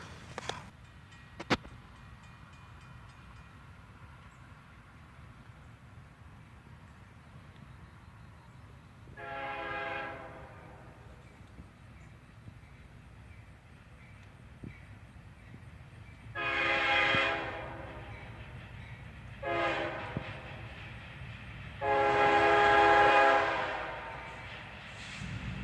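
A freight train led by a single ES44DC locomotive sounds its horn in several long blasts, the later ones louder and closer, over a steady low rumble of the moving train.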